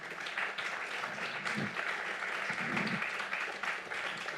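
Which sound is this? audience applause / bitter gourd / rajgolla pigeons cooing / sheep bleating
audience applause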